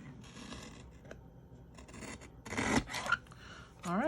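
A guillotine paper cutter trims paper for a handmade card, making a short rasping slice in the middle of a quiet tabletop scene, with a brief voice near the end.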